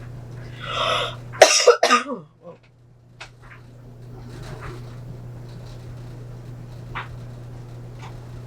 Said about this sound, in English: Out of nowhere. Cough attack.